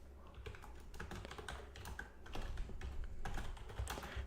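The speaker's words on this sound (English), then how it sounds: "Sorry, the keyboard's probably a bit loud." Computer keyboard typing close by, a steady run of quick, fairly loud key clicks with uneven rhythm and no talking.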